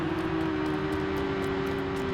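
A helicopter in the game Los Angeles Crime Online gives a steady whirring engine and rotor drone with a constant tonal hum, continuous and moderately loud throughout, with no talking.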